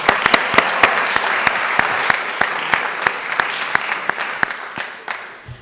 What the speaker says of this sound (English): Let's give those last two a round of applause,